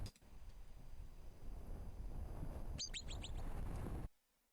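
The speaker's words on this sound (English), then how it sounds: "That is a bird." Outdoors, a single bird lets out a rapid run of four or five sharp, high chirps, close and clear above a constant breezy hiss that drops away abruptly at the end.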